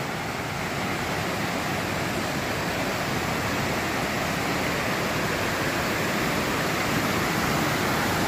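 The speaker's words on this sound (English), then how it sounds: "I wanted to take you down here to the waterfalls so you could get a look at that." A waterfall on the Appalachian Trail pours in a loud, constant roar of rushing water, steady and close, with no voices.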